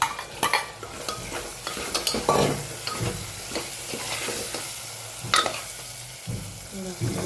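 Potatoes and other food tossed together in a pan, a continuous sizzle under repeated scraping and clinking of a utensil against the metal, with sharper knocks now and then, close and fairly loud.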